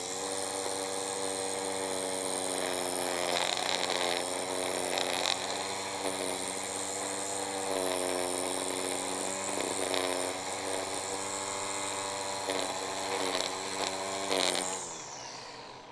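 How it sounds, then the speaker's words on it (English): A Black & Decker electric string trimmer running in edger mode gives a steady, loud, high-pitched whine with a faint rise and fall as it cuts along an edge, then winds down at the end. "Now we have the Black & Decker in edger mode, and I'll be the first to tell you I'm not great at string trim edging"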